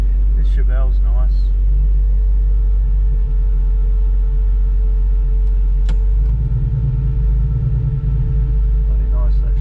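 A passing Chevelle, likely a big-block V8 car, swells in as a low, throaty rumble that builds toward the end over a steady idling engine drone, with someone talking briefly near the start.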